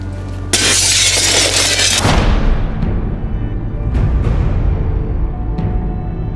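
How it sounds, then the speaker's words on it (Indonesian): Mirror glass thrown and shattering, one loud bright crash of breaking glass, then a long scatter of tinkling shards settling, with a few smaller clinks afterward; no voices. "biarkan kamu melempar kaca tersebut"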